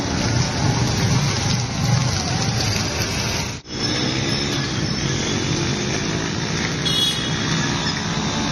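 Heavy rain pours steadily over the streets of Gadag-Betageri, a dense continuous hiss with traffic noise underneath and a brief dropout partway through.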